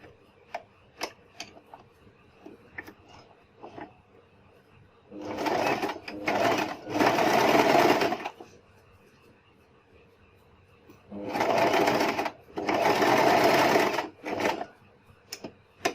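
A sewing machine stitches a zipper onto a cushion cover in two bursts of rapid whirring, each a few seconds long, separated by quieter ticking and handling clicks, with a faint voice in the background.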